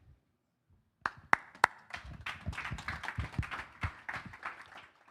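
Conference audience at a summit stage clapping. A few sharp, loud single claps come first after near silence, then spread into a dense, uneven round of applause from the room.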